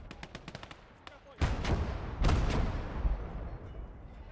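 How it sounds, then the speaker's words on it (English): Rocket artillery in the Gates of Hell game set in Finland: a rapid series of sharp distant launches, then two heavy booming impacts that roll and rumble loudly before slowly decaying. "Oh, that's a rocket artillery."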